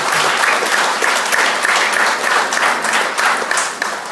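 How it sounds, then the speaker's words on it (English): Steady applause fills a room at a 90th birthday celebration, dense continuous clapping from a sizable crowd, loud and close, holding level for several seconds without voices. "I think she deserves a round of applause for that."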